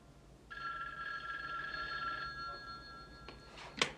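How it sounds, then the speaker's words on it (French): A 1970s telephone bell rings steadily for about two seconds, then pauses and starts another ring, heard clearly at a moderate distance in a quiet room. "Surveillez le téléphone, Arch. Dans quelques secondes, on devrait vous appeler pour vous le dire."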